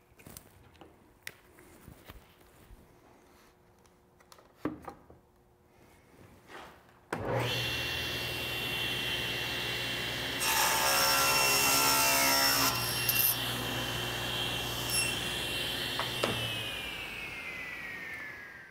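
A table saw crosscuts wood guided by a miter gauge, with a stop block clamped to the rip fence. The motor spins up abruptly to a loud, steady whine, and the blade works through the board partway in before running down.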